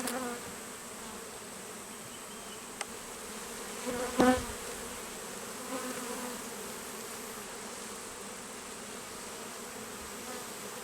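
Honey bees buzz at an open beehive while frames of brood and nectar are checked, a steady low insect hum throughout with one bee droning loudly past the ear midway, no talking.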